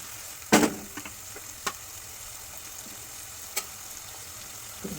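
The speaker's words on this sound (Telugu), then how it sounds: "కొంచెం ఆనియన్, ఒక 2 నుండి 3 వరకు గ్రీన్ చిల్లీ వేసానండి. కొంచెం మంచిగా వేగాలండి." Onion and two to three green chillies frying in a pan for a clove bean tomato curry, a steady soft sizzle with a few sharp ticks and scrapes from stirring, fairly quiet and with no talking.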